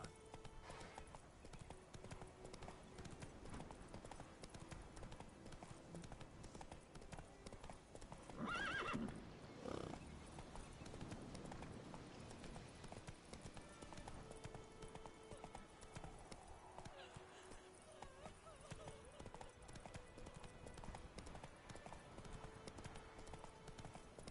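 Roach, a horse in The Witcher 3, clip-clops along at a steady gallop with a short whinny partway through, hoofbeats continuous and fairly near over game ambience.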